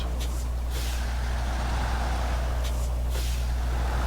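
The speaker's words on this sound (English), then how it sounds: "let's get this truck pulled over here so that I can get some fuel in it" A truck engine in the SnowRunner video game rumbles steadily with a deep low drone, with brief hissing bursts like air brakes releasing over the constant hum.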